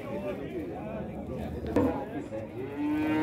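A dairy cow moos loudly nearby, a drawn-out low call, while people chat in the background at a dairy cattle fair.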